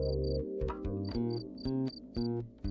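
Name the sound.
field cricket chirping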